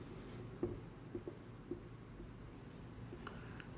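Pen on paper writes an income statement entry for opening inventory, making faint, close scratches with a few short taps in a quiet room.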